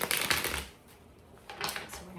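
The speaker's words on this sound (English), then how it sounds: "So we're going to shuffle real well," A deck of tarot cards is shuffled on a table in two brisk riffling bursts separated by a short pause, close and fairly clear.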